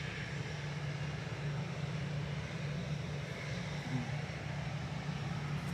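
An EasyJet airliner on approach from Malaga at Manchester Airport, a faint, distant, steady engine rumble with a low hum beneath it.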